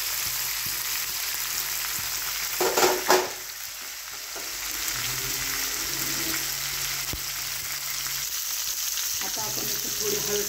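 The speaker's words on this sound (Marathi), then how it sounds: "आपण तुम्ही बघू शकता आता खरपूस वांगी भाजतील।" Brinjals roasting in a pan for a spicy village-style khara vanga dish crackle with a steady, close sizzle, broken by a brief scrape of stirring partway through.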